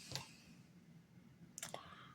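Pins click faintly as an Ingersoll 831B lock is picked. Two small metallic clicks sit close to the microphone, one early and one near the end, separated by quiet.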